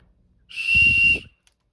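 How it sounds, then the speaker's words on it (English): A single shrill survival whistle blast held steady for under a second, fairly loud and close, then silence. "Little survival whistle."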